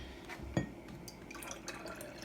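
Water poured into a glass of syrup for a density experiment: soft trickling and dripping splashes with a brief clink near the start, quiet and close.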